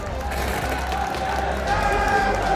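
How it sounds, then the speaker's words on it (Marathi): A college audience at Sheth N.K.T.T College gives steady applause for Aishwarya Jadhav, a dense continuous patter of clapping with crowd noise filling the hall for a few seconds. "ऐश्वर्या दादासाठी जोरदार टाळ्या"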